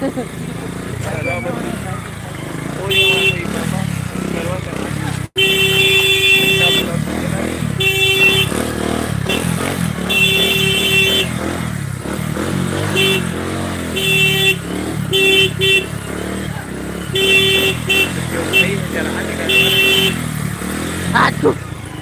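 Dense Indian road traffic with motorcycles and cars passing close and loud, repeated short horn toots cutting through the steady engine drone, and people talking over the din.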